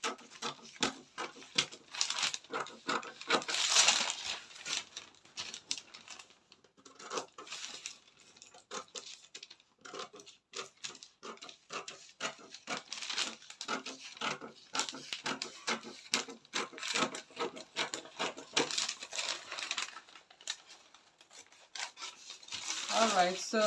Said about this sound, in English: So I'm going to cut out this cape I traced right now.